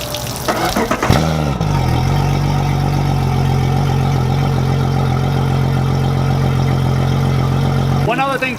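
An outboard boat engine hooked to flush earmuffs cranks briefly, catches, and settles into a steady, loud, even idle hum close by, dropping off at the very end.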